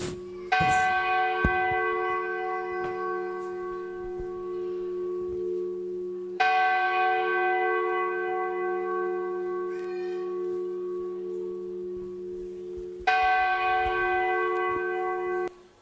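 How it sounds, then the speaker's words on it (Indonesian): Church bells ring at a Christmas service, each strike a loud, rich toll with long ringing overtones, three strikes spaced several seconds apart, each fading slowly before the next. "Lonceng Natal berdentang di setiap insan."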